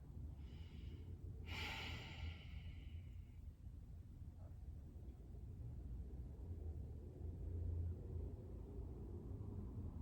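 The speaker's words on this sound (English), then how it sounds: "Four more breaths here." Slow deep breathing during a gentle yoga flow: one long audible breath around the middle over a low steady room rumble, quiet and close, with no speech.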